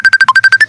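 An incoming call sets a phone ringing: eight short, loud electronic beeps in quick even succession, one dipping lower in pitch, with nothing else heard.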